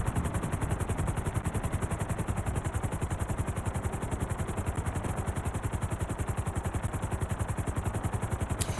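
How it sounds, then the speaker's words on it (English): A helicopter in the online mode of Grand Theft Auto V whirs with fast, even rotor thumps and a high engine whine, steady and prominent for the whole stretch with no talking. "Alright, go get the chopper."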